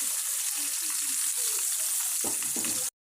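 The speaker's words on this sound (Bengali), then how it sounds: "তো মাছগুলোকে আমি একটু মুচমুচি করে ভেজে নিব।" Hilsa fish pieces sizzle steadily in hot oil, a constant bright hiss with a few soft clinks of utensils near the end before a brief dropout.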